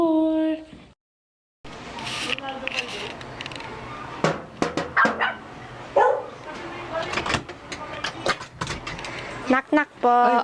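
Dogs bark inside a house, a burst of sharp, fairly loud barks in scattered clusters after a brief silence, mixed with people talking and greeting each other nearby.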